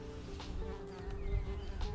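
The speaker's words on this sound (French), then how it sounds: "on a un nid de bourdon installé dans notre chalet" Bumblebees buzz at a nest inside a chalet, a steady close droning hum with several bees overlapping and fluctuating slightly in loudness.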